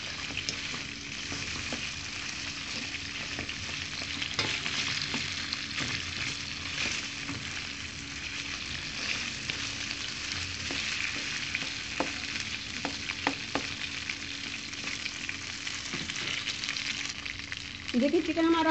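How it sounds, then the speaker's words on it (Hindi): Boneless chicken fries on high heat in a pan, a dense, steady sizzle running throughout with occasional stirring clinks, close and fairly loud, ending with a brief clatter. "इसे तेज आँच पे हम कर लेंगे फ्राई। बोनलेस चिकन है,"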